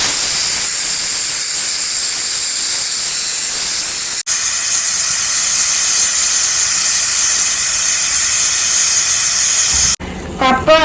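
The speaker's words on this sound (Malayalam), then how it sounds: "വെള്ളം തിളച്ചുകൊണ്ടിരിക്കുന്നു." Water boiling in a pot for cooking tapioca, a loud, steady, close hiss of steam and bubbling that runs throughout with a brief interruption near the end.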